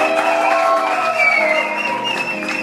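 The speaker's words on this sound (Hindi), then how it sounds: "एक बार जोरदार तालियां." Audience applause at a live FM radio event with a singing duo, a full house clapping steadily throughout with dense, continuous crowd noise.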